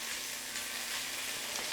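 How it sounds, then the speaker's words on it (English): Steady, hissing sizzle of chicken pieces turning golden in a hot pan, close and continuous with no voices. "As the chicken starts sizzling, you turn it around a little"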